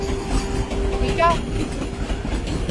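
A train runs along the rails with a steady rolling rumble and rhythmic clickety-clack, heard close and continuous, with a brief squeal partway through and people talking faintly underneath.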